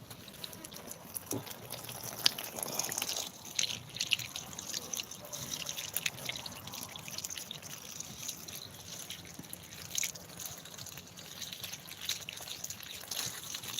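Water running and trickling while food is washed, a faint, steady splashing stream with scattered drips and small spatters throughout, fairly distant and quiet.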